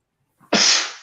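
A man with allergies gives one loud, close sneeze. A short breathy intake comes first, then a forceful hissing burst that fades slowly.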